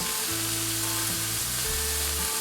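Hamburger patties frying in melted butter in a pan, a dense, even sizzle close by with a low steady hum underneath, no voices.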